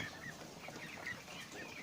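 Four-week-old laying ducklings, some with new feathers, give faint, hoarse, rasping quacks in a few scattered short calls against a quiet background.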